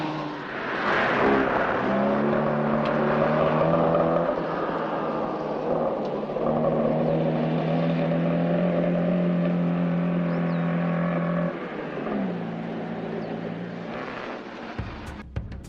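BMW rally car in the 1978 Rally of the Danube, heard from the roadside as a rising and falling engine drone with shifting gears, loud and sustained before dropping off near the end of the run.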